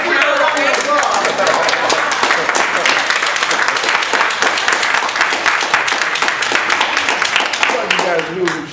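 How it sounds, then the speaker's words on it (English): Audience at a Toastmasters speech evaluation contest applauds, a loud, continuous wash of many hands clapping that holds steady throughout, with some voices mixed in. "Let's give her a round of applause"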